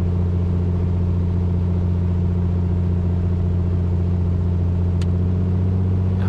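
Piper Comanche engine held at steady run-up RPM during a magneto check in Microsoft Flight Simulator 2020, a loud continuous droning hum that stays even throughout with only a brief faint click near the end.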